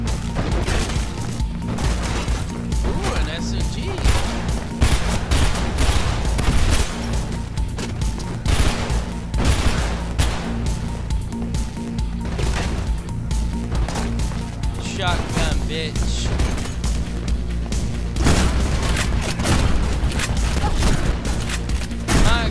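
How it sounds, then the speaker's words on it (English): Repeated shotgun blasts in the video game Mirror's Edge during its final push, with heavy booming shots firing in quick succession almost without pause, over a busy, loud firefight. "God, how many shotgun blasts the faces take?"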